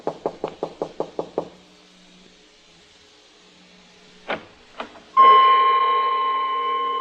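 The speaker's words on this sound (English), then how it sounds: "Ali Faid hadn't answered my knock" Knocking on a door in a radio drama: a quick series of about seven sharp, close raps, then a pause before a couple of separate thuds and a sustained tonal sound.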